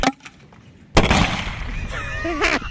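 A TAG-ML36 HPA launcher fires a single shot outdoors at about -21°C, a sharp loud burst followed by shouting and excited voices nearby.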